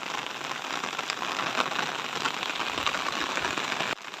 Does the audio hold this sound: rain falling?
yes